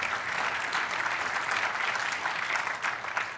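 Steady applause from a gala dinner audience, a dense, even wash of many hands clapping at moderate distance without a break.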